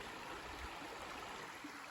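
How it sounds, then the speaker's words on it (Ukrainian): A small clear river flows through a forest, giving a steady, gentle rushing murmur of water that stays even and fairly quiet throughout, with no voices. "Біля водички тут водичка прозора і сумить. Тече річка невеличка."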